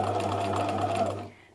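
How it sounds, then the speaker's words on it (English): A sewing machine stitches a line in a steady, rapid whirring run, close and fairly quiet, then slows and stops. "I'm just going to keep sewing another line."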